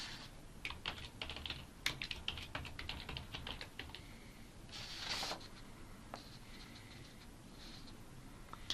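Computer keyboard typing, with a run of quick, quiet key clicks in irregular bursts and a brief louder patch midway, close and without voices.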